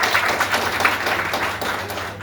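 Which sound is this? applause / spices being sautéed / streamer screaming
applause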